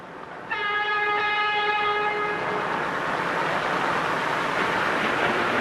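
A commuter train, the 525, rumbles steadily past at close range, with a loud multi-tone horn blast sounding early and fading as the continuous rail roar carries on.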